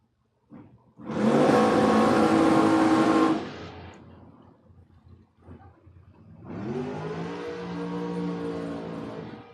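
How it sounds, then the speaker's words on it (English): A drag car's engine roars loudly through a burnout, cuts off, then a second engine revs up and holds a harsh, steady growl. "Lieberman's car sounds very angry during the burnout."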